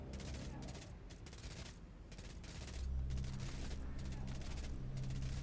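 Gunfire from commandos in the Line War strategy game, a steady crackling fusillade of rapid shots running throughout under a low rumbling bed that grows louder partway through.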